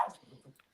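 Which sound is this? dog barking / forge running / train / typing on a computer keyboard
dog barking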